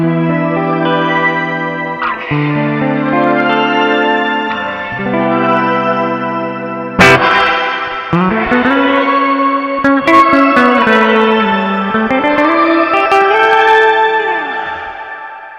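Guitar played through a BOSS RV-6 reverb pedal in shimmer mode, sustained chords blooming into a bright, synth-like halo of high overtones, with a sharp new strum midway and a long, washing tail, loud and alone.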